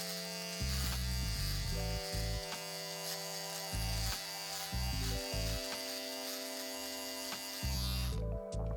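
A Philips Norelco OneBlade Pro electric shaver trims a mustache with a close, steady buzz whose pitch shifts in short stretches as the blade moves over the hair, cutting off abruptly at the end.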